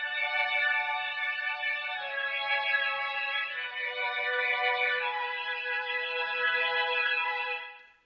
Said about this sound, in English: here is the Mellotron sound, which is the same Mellotron sound you heard before